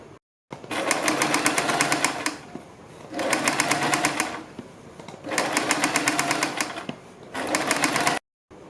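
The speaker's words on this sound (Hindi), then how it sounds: "उल्टी साइड इसके ऊपर एक सिलाई लगा देंगे" Sewing machine stitching a kurti, loud close mechanical whirring in three steady runs, each lasting about two seconds, with brief pauses between.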